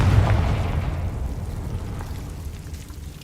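In Hogwarts Legacy, a Confringo blasting curse explodes with a heavy, booming burst. The blast is loud at the start, then fades into a rumbling, crackling decay.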